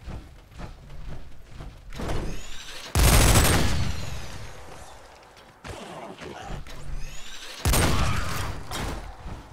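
Fallout 4 gameplay gunfire sounds out as several loud, heavy shots with echoing tails, spaced a few seconds apart, alongside clanking mechanical noises in between.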